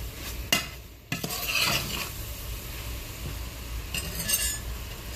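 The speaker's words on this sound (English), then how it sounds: "Go ahead and mix everything in nice and good" A spoon stirring turkey chili with paprika in a pot, scraping and clinking against the metal in a few bursts over a low simmering sizzle, close and moderately loud.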